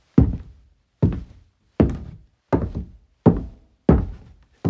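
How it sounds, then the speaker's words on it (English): Foley footsteps fall on a hollow, bassy wooden floor that suits an attic scene: six evenly spaced, close, heavy thunks, each with a deep low boom that quickly decays. No one speaks. "this floor, for instance, is a bit more hollow and more bassy and could be good for an attic"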